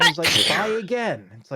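A single person sneezes close up, a sharp burst mixed in with lively, overlapping conversation.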